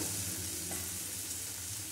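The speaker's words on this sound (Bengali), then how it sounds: "রসুনটা আমার ভাজা হয়ে গেছে এবার আমি সব মশলাটা মিশিয়ে দিচ্ছি" Garlic and spices frying in hot oil with steady stirring, a continuous close sizzle holding at an even level, with no voices.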